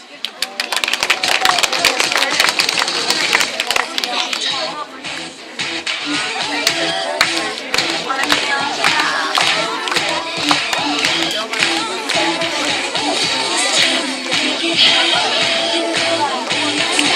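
Audience applause at a children's summer camp squad presentation show, steady clapping filling the whole stretch, dense and fairly loud, with a brief dip midway and crowd noise mixed in.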